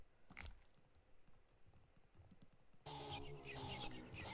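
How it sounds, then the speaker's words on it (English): Crunching noises in a low-bit indie horror video game: a sharp crunch near the start, scattered soft crackles, then a loud, dense stretch of gritty crunching that runs steadily to the end. "What is that crunching noise?"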